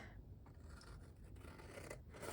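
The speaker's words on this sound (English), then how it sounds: "I'm going to use my big scissors" Large scissors cut through paper or card in a quiet crafting setup, a few soft snipping and scraping strokes close by, faint, with no talk.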